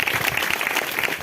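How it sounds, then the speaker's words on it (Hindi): A church congregation clapping together in a steady, dense wash of applause at a worship service, fairly loud and continuous with no break. "और तेजी के साथ महिमा दें, आपकी ताली की आवाज धीमी ना हो।"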